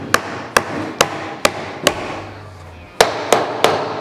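Wooden wedges tapped into place on door frame clamps with a hammer, about eight sharp, close knocks in an uneven rhythm with a short pause before the last three.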